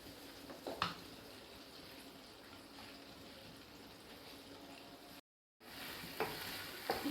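Chicken rubbed with vinegar and salt fries in ghee with a soft, continuous sizzle and bubbling, a few stirring knocks, and a brief dropout of near silence before the frying resumes; nobody speaks.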